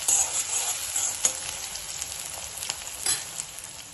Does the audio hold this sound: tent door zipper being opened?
no